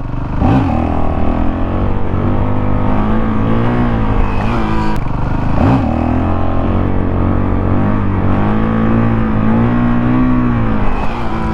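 A 2019 Honda CRF450L dirt bike's engine revs loud and close during wheelie practice, rising and falling in repeated surges as the throttle opens and eases, with a steady engine drone throughout.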